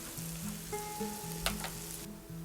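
Onion-tomato puree being stirred in a hot pan for paneer tikka masala gives a steady, close sizzle with faint scraping of the stirring.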